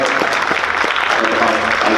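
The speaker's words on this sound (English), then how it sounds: "applaud yourself, parents, for your amazingness" Parents at an appreciation night applaud in a brief burst of dense clapping from a crowded room, with speech running over it.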